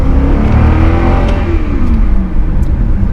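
A 320-horsepower Cadillac XLR roadster accelerates hard on a road test, its engine note rising steadily and loud inside the car over a constant road roar.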